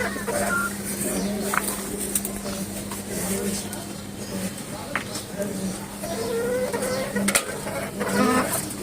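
A hen clucks repeatedly before laying an egg in a home kitchen setting, with short broken clucks and squawks scattered over a steady hum while someone talks nearby.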